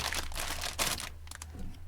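Plastic crinkles and rustles up close in quick bursts as a small parts bag from a Bandai HG Gouf model kit is handled and torn open, with brief quieter pauses between.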